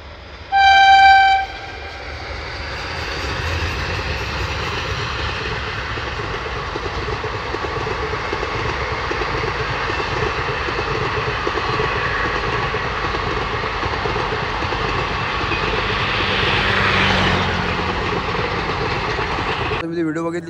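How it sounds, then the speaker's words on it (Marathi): Train passing close by, opening with a short loud horn blast followed by a long steady rumble and clatter of wagons that swells slightly before ending abruptly. "मस्त ट्रेनची व्हिडिओ भेटली मला"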